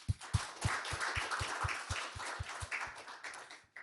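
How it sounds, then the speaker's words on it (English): A forum audience at an international transboundary air pollution event claps for a speaker, with a run of distinct, evenly spaced hand claps fairly close by that taper off after a few seconds. "Please give a big applause for her."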